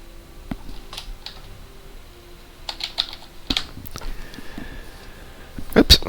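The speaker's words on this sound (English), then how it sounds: "My typing is so bad today." Fast typing on a computer keyboard, irregular bursts of clicks over a faint room hum, with brief voice sounds mixed in.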